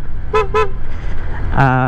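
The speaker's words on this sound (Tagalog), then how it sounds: "Tapos magbubusina tayo." Two quick toots from a Honda Click 125i scooter's PIAA horn, then a longer, louder honk over a running engine.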